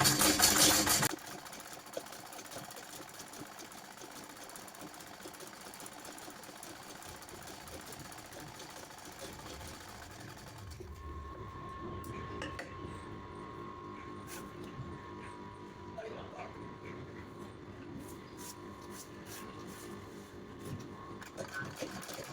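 A tailoring sewing machine runs a loose temporary seam on a simple blouse, a soft steady whirring with a louder burst at the start and faint ticks later, no voices.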